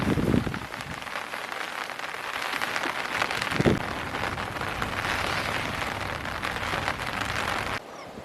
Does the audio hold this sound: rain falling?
yes